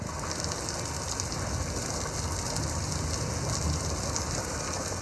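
Steady rain falls on city streets in Punjab, Pakistan, a dense, continuous hiss of drops hitting surfaces with no voices heard.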